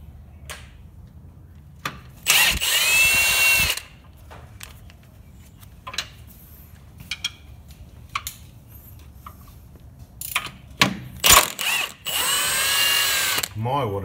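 Power tool gun used while removing a car gearbox during a clutch replacement: loud bursts of whirring and rattling separated by quieter stretches of workshop clatter and ratcheting, with some faint voice in the background.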